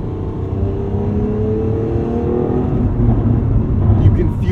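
Lamborghini Aventador Ultimae LP780 with a naturally aspirated V12, in Corsa mode through a corner: a loud, steady engine rumble and whir heard from inside the car, swelling slightly toward the end.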